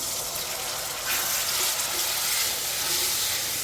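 Water poured into spiced masala being fried in a pan with tomato paste and red chilli powder, a steady broadband pouring rush lasting several seconds with no talk.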